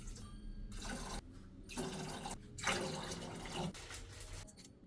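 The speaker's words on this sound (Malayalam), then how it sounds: "പാകത്തിന് കുറച്ച് വെള്ളം." Water splashing into a cooking pot on the stove over chopped potatoes and beans for soupy noodles, several short pours in bursts with brief pauses between.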